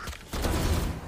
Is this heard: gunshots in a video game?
yes